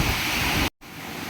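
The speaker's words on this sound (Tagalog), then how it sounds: "Malakas talaga ang ulan" Heavy rain pours down in a steady, loud broadband wash around a leaking home, the roar cutting out briefly for a moment before resuming slightly softer.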